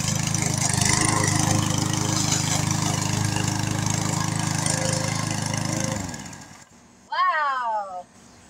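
A small, lightweight 144cc gas-powered lawn mower with a bagger drones loudly and steadily up close, then winds down and cuts off, followed by a brief excited voice.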